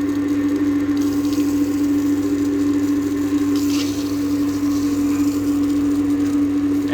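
Water pumped through a slightly opened valve into a tank on a pipe friction apparatus makes a loud, steady mechanical hum with a constant tone and an even rushing flow, unbroken from start to finish.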